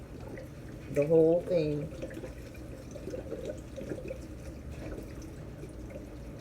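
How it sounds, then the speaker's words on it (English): Broth is poured into an Instant Pot, a soft liquid splash and trickle under a woman's speech at the start, then a faint continuing pour beneath low room noise. "I'm just pouring it right on in here. Pouring it right on in my Instapot."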